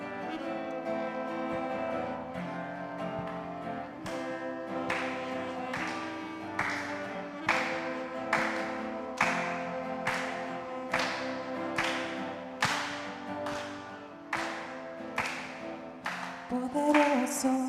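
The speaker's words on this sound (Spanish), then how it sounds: "Les invito, si gustan, utilizar sus palmas para alabar a nuestro Dios." A church congregation claps along to a worship song, with steady rhythmic handclaps joining partway through and continuing over the sung music and instruments.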